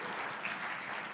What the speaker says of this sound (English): Let's round of applause for Ms.